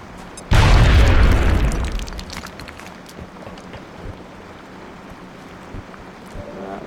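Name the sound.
grenade explosion in XCOM video game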